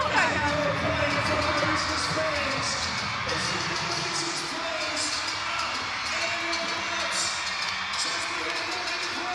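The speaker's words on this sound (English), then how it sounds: "The crowd have taken up to the next level. Listen to the noise." Loud, continuous crowd noise fills a netball arena during a Suncorp Super Netball match between the Vixens and the GIANTS, a dense roar of cheering and shouting that stays steady for the whole stretch.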